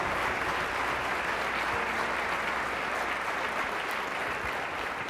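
An audience at a charity luncheon claps continuously for award winners, a dense, even wash of applause filling the room from start to finish with no voices standing out.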